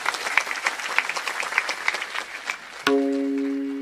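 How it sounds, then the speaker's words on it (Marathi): Audience at a Marathi kirtan gathering clapping together in brisk, dense applause for a few seconds, abruptly cut off by a sustained electronic tone. "आपण सगळेजण वारकरी या नात्यानं टाळ्या वाजून ग्रामस्थांचं स्वागत करूया"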